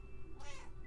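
A pet cat, one of two young cats, gives a single drawn-out meow at close range over a steady background hum, with no talking.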